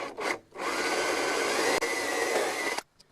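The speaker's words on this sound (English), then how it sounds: "So we're drilling 4 holes here." A cone drill bores holes in wood for a handmade wooden keyboard, giving a steady, loud whirring grind that runs for about two and a half seconds after a brief short burst, then cuts off.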